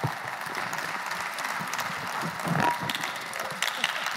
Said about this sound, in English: Let's give this panel another round of applause.